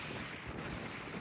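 Outdoor wind by open water on a carp fishing trip, a loud broadband rush buffeting the microphone for the whole brief moment, with no talking.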